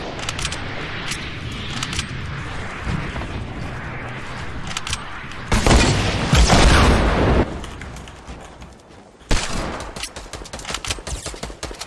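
Rocket explosions and gunfire in the Fortnite battle royale video game come as a run of scattered shots, then a heavy, loud blast lasting a couple of seconds, a lull and a second sharp boom, followed by more crackling shots.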